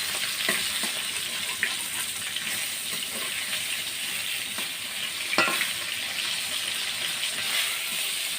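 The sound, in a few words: pangas fish heads frying in oil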